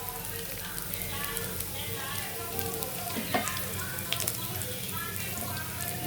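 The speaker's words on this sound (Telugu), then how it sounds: "ఉల్లిపాయలు వేగేవండి, అల్లం వెల్లుల్లి పేస్ట్ కూడా వేగింది." Onions, ginger-garlic paste and curry leaves sizzle in hot oil in a home kitchen, a continuous close crackle with a few sharper spatters and a faint clink of a stirring spoon.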